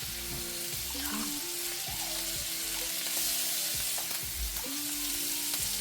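Chicken sizzles and fries in a pan with butter, garlic and thyme, a steady close crackle with occasional stirring scrapes and no voices.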